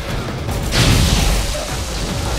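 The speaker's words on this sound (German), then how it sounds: "Viel zu früh explodiert." A grenade explosion in the video game Borderlands booms once, a muffled low thud with a short burst of noise, over a steady background din.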